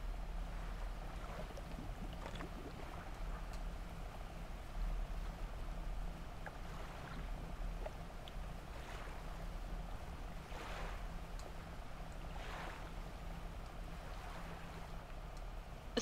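A boat sails on open ocean waves at night in the fishing game Dredge, giving a continuous wash of surf and wind with a low engine-like hum underneath, steady and unbroken throughout.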